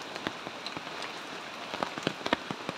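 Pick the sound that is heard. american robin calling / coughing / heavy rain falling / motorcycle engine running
heavy rain falling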